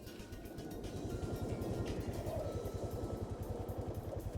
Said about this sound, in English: I heard the roar of an engine, very similar to the one from earlier.